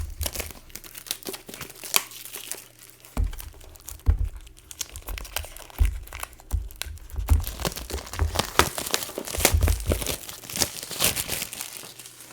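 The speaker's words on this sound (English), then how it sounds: "So let's open this sketchbook for the first time." New Arrtx sketchbook being unwrapped, its plastic packaging crinkling and tearing in dense, irregular bursts close to the mic for the whole stretch, with no speech.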